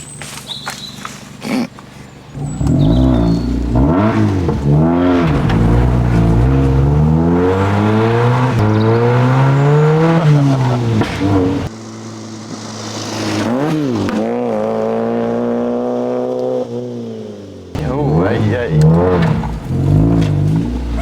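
Modified Mazda MX-5 Miata pulling away close by, engine revving up and down in several loud rising and falling sweeps, easing off to a steadier note before revving again.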